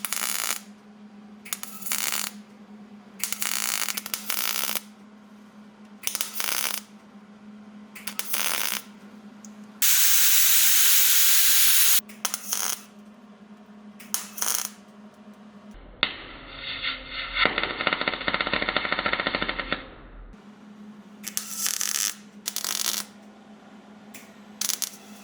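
Repeated short bursts of MIG-style welding as a rust repair patch is stitched around its border on a Chevy Nova, crackling on and off in a steady rhythm, loud and close, with a longer grinding-like stretch midway and no talk.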